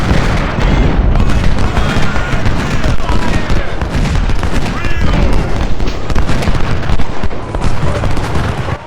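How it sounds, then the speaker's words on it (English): Dense, continuous cannon and musket fire from a large Civil War battle at Antietam in Ultimate General: Civil War, loud and rolling with overlapping booms and crackle, a voice talking over it now and then. "They must have really good artillery if that artillery is making them waver."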